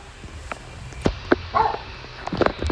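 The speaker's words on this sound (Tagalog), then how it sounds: "Sorry guys kung maingay may aso." A dog barks in short, sharp bursts at close range, with a few separate yips and woofs spread unevenly across a noisy background.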